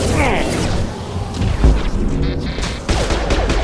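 Weapons firing in Mass Effect Legendary Edition combat, a loud close burst of rapid shots and blasts with a heavy boom near the middle, set against dense battle noise.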